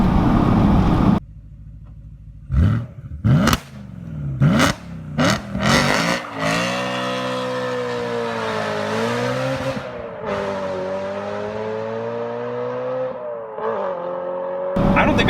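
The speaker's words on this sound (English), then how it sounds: "this engine is so rev happy" A BMW E90 M3 engine revs hard in several sharp bursts, then pulls through a long accelerating run, the tone climbing and dipping with gear changes, loud and close with faint tire noise.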